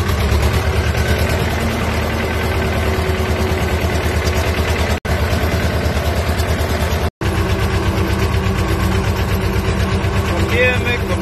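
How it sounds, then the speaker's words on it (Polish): An Ursus tractor engine runs steadily while digging potatoes in a field, a loud continuous low rumble with a regular pulsing beat, broken only by two very brief dropouts. "Dzisiaj kopiemy kartofelki. Pierwszy raz ciągnikiem w tym roku."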